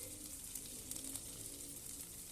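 Corned beef with moringa and onion rings sautés in a pan, a faint continuous sizzle with soft stirring taps, heard alone and at low level.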